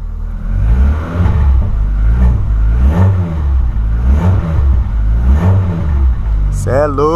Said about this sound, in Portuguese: Vamos dar a partida. Ó o barulhão.